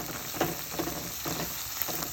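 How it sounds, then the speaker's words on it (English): Curry powder frying in a hot pot on low heat, a steady crackling sizzle with occasional sharper pops, close and continuous with no talking. "And we're going to give this a good fry."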